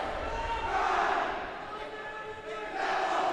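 Senior high school volleyball players shout a team cheer in a gym at a Dig Pink game, a loud blended crowd of voices lasting a few seconds with indoor echo.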